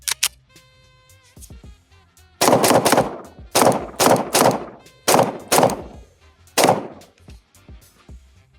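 A CZ P09 Nocturne pistol fired with a CZ-P10F magazine cracks out a loud first shot, then three fast strings of two to four shots each, with a single shot after a short pause and ringing gaps between strings.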